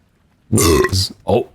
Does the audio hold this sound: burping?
yes